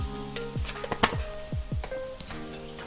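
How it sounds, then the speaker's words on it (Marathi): Mixed vegetables with sliced cabbage and black pepper sautéing in a pan, a steady soft sizzle broken by repeated stirring scrapes and clacks of a spatula, close and without talk. "आता ह्या सर्व भाज्या परतून घेऊया।"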